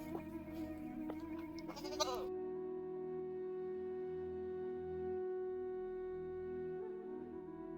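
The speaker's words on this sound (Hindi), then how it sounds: "बकरी की आवाज़ आ रही है, यानी कि इसके अंदर बकरी है।" A goat bleats from inside a cage at night, a short wavering cry near the start followed by a steady low hum of background noise.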